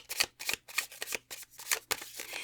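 Oracle cards from the Citadel Oracle deck are shuffled by hand in a quick run of soft, papery riffles and slides, close and quiet, with no talking.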